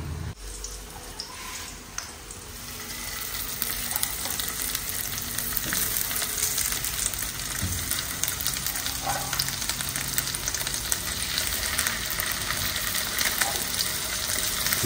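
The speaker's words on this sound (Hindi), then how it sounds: "जो मैं अभी प्याज डालूंगी ना बर्गर्स के अंदर वो कैरमलाइज करूंगी" Onions sizzling and frying in a pan as they caramelize for burgers, a steady close hiss with faint stirring running on without pause.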